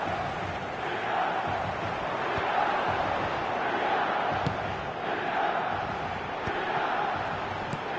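Stadium crowd in eFootball 2024 on PS4, a sustained loud roar of chanting and cheering that swells in waves, with faint thuds scattered through.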